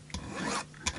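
Hand file bevelling the end of a fret on an Epiphone Black Beauty guitar, with a few short, close rasping strokes: one brief scrape, a longer steady pass, then another quick stroke, and no talking.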